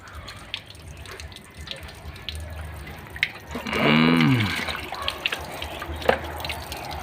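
Water drips and splashes, then a gush pours out for a second or so, with scattered drips and faint background noise around it.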